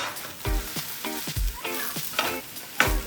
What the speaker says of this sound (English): I figure I'm gonna cook the eggplant a little bit first